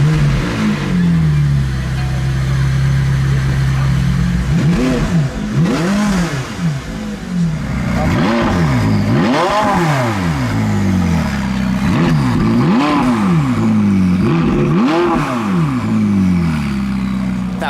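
A McLaren 675LT engine starts and revs loudly up close, with repeated sharp throttle blips rising and falling in quick succession over a rumbling idle.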